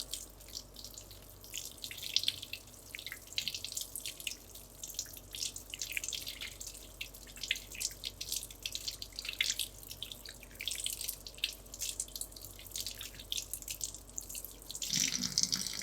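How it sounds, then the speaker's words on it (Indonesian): Water runs steadily from a tap into a sink as hands are rinsed under the flow during an aseptic handwashing routine, a continuous close splashing hiss with small drips. "bersihkan dengan menggunakan air mengalir"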